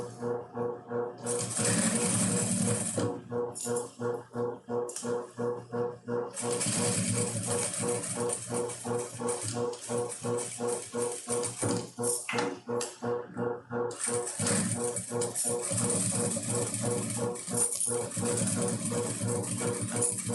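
A sewing machine stitches a fabric manicure case in repeated bursts of rapid whirring with short pauses, close by.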